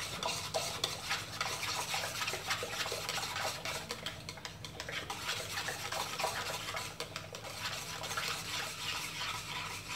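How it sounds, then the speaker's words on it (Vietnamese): A spoon stirring a pot of cheese agar jelly being cooked as a milk-tea topping, giving a steady continuous scraping and swishing with faint simmering underneath, close and even throughout. "bây giờ ta quậy cái nồi phô mai cho thật đều."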